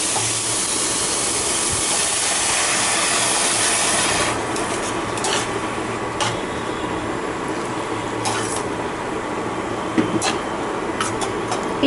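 Water poured into a pan of hot spiced chickpea masala, a loud steady hiss that lasts about four seconds and then drops to a softer simmer with faint clinks, with no talking.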